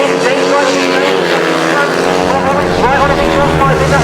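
Grasstrack racing motorcycles roar past loudly at a British Masters meeting, a dense continuous engine blare with shifting pitch that fills the whole clip.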